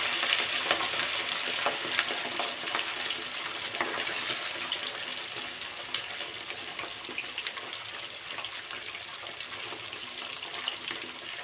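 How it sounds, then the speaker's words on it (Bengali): Rohu fish sizzles and crackles steadily in hot oil, a constant bright hiss with small pops and no speech. "মাছগুলোকে ভালোভাবে ভেজে নেব।"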